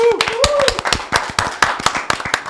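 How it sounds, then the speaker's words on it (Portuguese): Audience clapping for Pastor Jackson Marques at a church service, uneven and fairly close, with a voice speaking over the early part. "quero que vocês deem uma salva de palmas para Jackson Marques"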